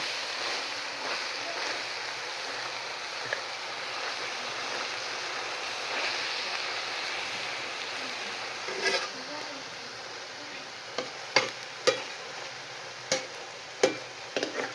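Tender spring onion greens sizzle steadily in a hot pan, releasing water, and toward the end a run of sharp scrapes and clicks from stirring cuts through the frying hiss.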